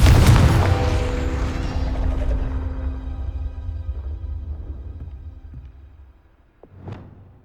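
A Confringo blasting spell going off in Hogwarts Legacy, a loud, deep booming explosion with a crackling rumble that slowly decays over several seconds, followed by a smaller whooshing burst near the end.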